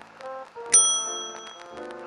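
A bell rings once with a bright, sustained ding in the PC hidden-object game I Spy: Mystery, over soft background music.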